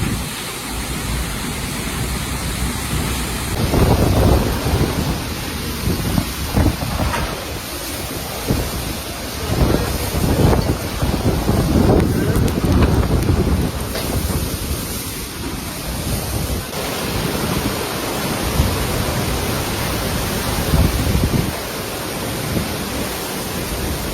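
Hurricane Melissa lashing Jamaica, a very large, slow-moving storm whose roaring wind and rain form a loud, continuous broadband rush with surging gusts, heavy buffeting and no voices.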